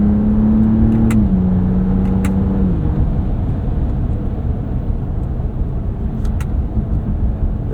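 A 2025 Ram RHO pickup, a 6,300-pound truck with 540 horsepower, accelerates hard from a launch with a loud, close engine roar that climbs in pitch, drops at a gear change, then settles into a sustained rumble.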